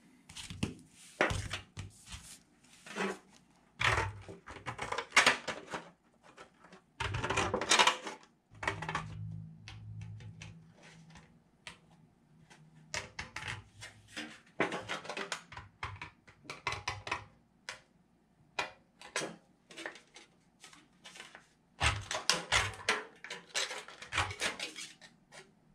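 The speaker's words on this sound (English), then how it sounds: "Now let's cut out the tin." Snips cutting through stamped tin sheet for craft sunflowers, a series of irregular metallic clicks and crunchy snips with short pauses, close and fairly clear.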